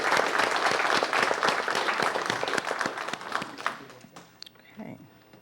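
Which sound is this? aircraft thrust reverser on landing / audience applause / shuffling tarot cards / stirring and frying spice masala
audience applause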